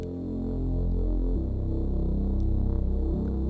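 Synth sub bass with added drive and harmonics, a deep sustained buzzing tone with a slow throbbing pulse, shifting pitch once midway, loud and alone.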